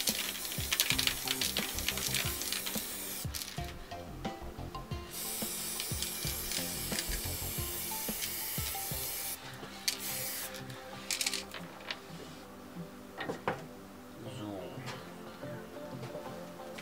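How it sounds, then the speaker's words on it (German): Spray paint can hissing in bursts over poster board while painting a space scene of aligned planets, close and steady, alternating with scraping and rubbing, with someone talking in between. "wenn ihr von oben drauf sprüht, dass der Nebel sich noch irgendwie drunter setzt"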